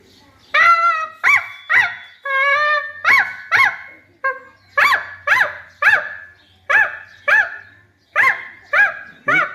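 A first- or second-grade pupil imitates a puppy, with high whimpering yelps and short barks repeated in a steady series, loud and close.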